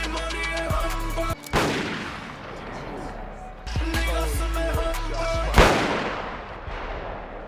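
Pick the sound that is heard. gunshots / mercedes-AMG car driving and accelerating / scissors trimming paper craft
gunshots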